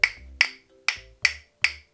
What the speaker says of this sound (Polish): Na klawesach nie gramy w ten sposób,